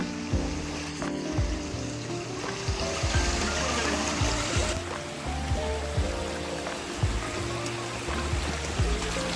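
A stream below a hill waterfall babbles with a constant, hissing rush of flowing water, steady and fairly close, with some low hum underneath.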